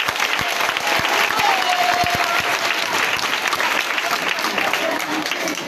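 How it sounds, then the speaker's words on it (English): An audience claps steadily through a school ceremony marking the handover of a new computer lab at Jones Moore Public School in Liberia. The applause is dense and sustained, with a faint voice or two beneath it. "Can we clap for that?"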